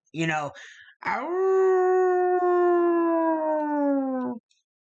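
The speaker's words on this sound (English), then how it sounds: "you suddenly start to hear some wolves howl" A long, sustained howl, loud and close, rises then holds a steady falling tone for about three seconds after a shorter wavering cry, evoking wolves howling in a dark forest setting.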